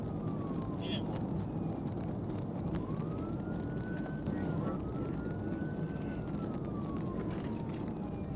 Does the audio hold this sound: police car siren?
yes